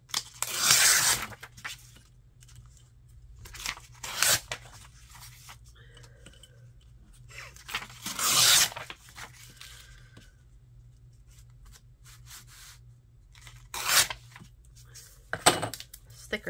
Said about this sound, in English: Thicker paper doesn't like to tear as easily.